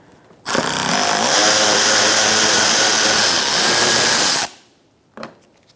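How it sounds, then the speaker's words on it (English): An 8mm ratchet drives out bolts from the plastic engine splash shield of a 2004-2009 Mazda 3, running as a loud, steady mechanical whir for about four seconds before cutting off, followed by a brief clack. "Using an 8mm ratchet, I'm going to remove the bolts along this little piece of plastic engine"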